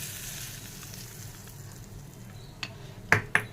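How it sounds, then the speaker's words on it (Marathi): Faint steady sizzling hiss of hot oil tempering poured onto ground dal, with a couple of sharp clinks of a utensil near the end. "आता आपण ही फोडणी आहे ना आपण जी डाळ वाटून घेतली होती त्या डाळीवर घालून घेणार आहोत"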